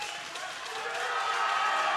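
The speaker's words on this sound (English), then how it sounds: "Oh, listen to the crowd." An arena crowd at a world open equipped powerlifting meet roars during a women's heavyweight deadlift attempt, a broad sustained wash of cheering that swells slightly louder toward the end.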